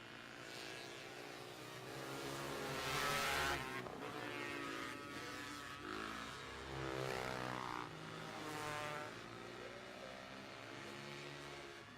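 Sprint cars race on a dirt track, their engines roaring loudly with rising and falling pitch as cars pass by, several overlapping whines swelling and fading continuously.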